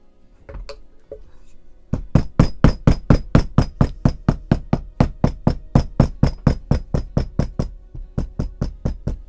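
A hammer strikes metal in a fast, steady rhythm, about thirty sharp ringing blows in a row, loud and close after a few scattered knocks.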